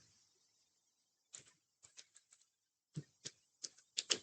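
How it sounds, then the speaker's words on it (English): Password keys tapped on a computer keyboard while setting up a virtual machine and MySQL, heard as a few quiet, sparse clicks after a silent start, then a quicker run of sharper keystrokes toward the end, close and without talk. "Now I'm going to type the password."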